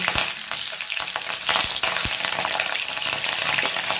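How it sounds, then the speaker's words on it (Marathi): Green chillies sizzling in three tablespoons of hot oil, a steady loud crackling fry with small pops throughout and no talking. "आता हे 3 टेबलस्पून मी तेल गरम करून घेतलंय। मिरची घालते"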